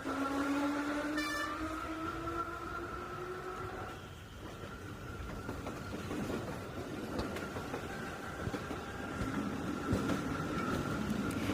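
An Alexandria tram rolls along tracks with a continuous rumble and rattle. A brief high whine sounds early, then a sustained hum carries under the noise.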